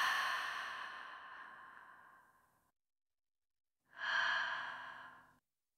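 A long, deep breath drawn in and slowly fading, a pause of silence, then a shorter, strong breath that tails off; close and clear with no other sound.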